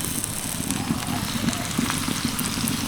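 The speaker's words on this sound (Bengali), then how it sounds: "এবার আমি দুটো করে পরোটা একসাথে ভেজে নেব" Two atta parathas frying together in a pan give a steady, even sizzle that runs unbroken throughout, close and moderately loud.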